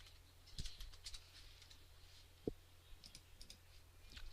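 Computer keyboard keys tapped in sparse, quiet clicks with a few sharper strokes, no voice, against a faint steady room hum.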